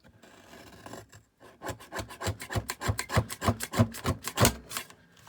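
A scrap of blueberry-print quilting fabric has its edge trimmed: a quick series of dry, rasping cutting strokes, close and fairly loud, speeding into an even rhythm and ending with one sharp stroke.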